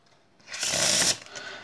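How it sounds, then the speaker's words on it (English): Playing cards are shuffled in a single quick riffle, a short loud burst of crisp fluttering clicks lasting about half a second, close up and without talking. "The cards can be shuffled"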